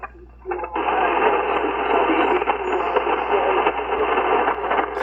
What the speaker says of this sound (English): it's like amplifying all the static crashes though a little bit.